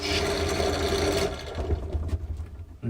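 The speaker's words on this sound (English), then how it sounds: "Drill press work complete." Drill press boring into an epoxy side table piece: a loud, dense whirring grind for over a second, then winding down into scattered rattles and clicks.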